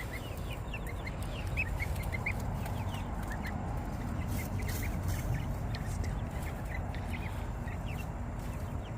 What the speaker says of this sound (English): Just gonna show a little bit more footage of the chickens playing in this tractor, and the geese.